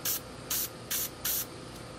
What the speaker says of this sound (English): This stuff is a spray.